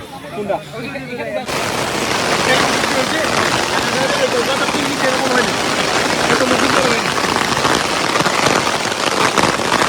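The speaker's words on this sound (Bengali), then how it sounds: "বৃষ্টি শুরু হয়ে গেল" Rain starting to fall on a farm in America during an Eid ul-Adha gathering, beginning abruptly as a dense, loud patter of drops on surfaces that continues steadily, with voices faintly under it.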